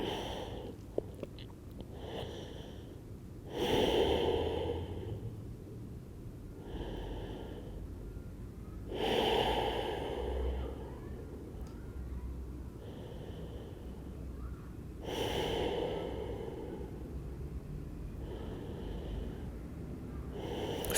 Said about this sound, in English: Big breaths in, big breaths out.